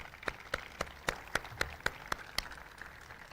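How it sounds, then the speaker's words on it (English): Sparse, evenly spaced claps, about nine in three seconds, quiet and distant in a hall at a library grand opening ceremony, sounding like a few people applauding rather than a full crowd. "Can we give them all a round of applause"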